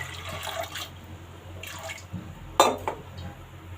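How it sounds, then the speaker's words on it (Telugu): Water is poured into a cooking pot on a stove, giving a few short splashing and trickling bursts with a clunk of metal midway, close and moderately loud over a low hum, with no speech. "తగినన్ని వాటర్ పోసుకోవాలి"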